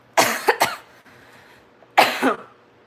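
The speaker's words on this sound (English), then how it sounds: "I have to cough." A few sharp, close coughs: a quick double burst, a pause, then another cough, with no talking.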